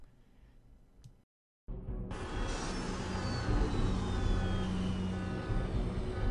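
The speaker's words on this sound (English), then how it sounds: "Engines are warming up." Spaceship engines warming up in the video game Anachronox: after a brief silent gap, a loud, steady rumbling roar swells up and holds, with a thin descending whine riding on top.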